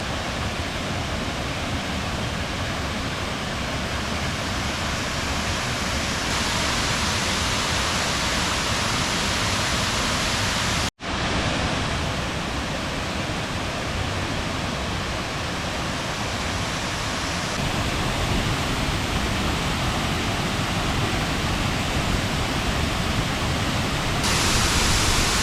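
A waterfall on a mountain stream in Sapphire, North Carolina, pours into a pool, a loud, steady, broadband rushing roar heard up close and continuous throughout, with one brief dropout partway through.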